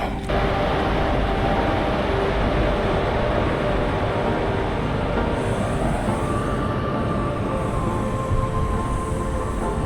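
The Coimbatore–Tirupati Intercity Express, running with LHB coaches, rolls toward Erode with a loud, steady rumble and wind roar heard from on board, a faint tonal whine emerging in the second half.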